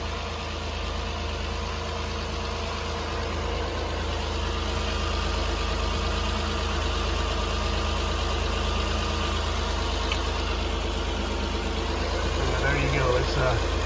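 2016 Nissan Pathfinder engine idling with a steady low hum throughout, close by and even, with faint talk in the background.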